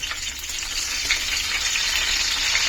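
Curry leaves sizzle and crackle in hot oil in a pan, a steady, dense frying hiss that holds close and loud throughout with no talking.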